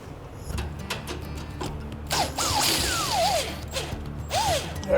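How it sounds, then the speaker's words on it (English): Tensioning bolts on a treadmill roller are loosened with a tool, giving a run of close ratcheting clicks and mechanical creaks with a few brief squeaks. "Now we're going to actually take the tension off the tread belt by using these tensioning bolts for the roller"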